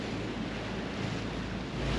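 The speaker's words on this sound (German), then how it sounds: "Und die Wassertaxis rasen hier durch, schmeißen uns fast um mit ihrer Welle" Wake waves thrown by speeding water taxis slap and wash against a small pleasure boat near Dordrecht and Rotterdam, a continuous rushing surge with wind buffeting the microphone.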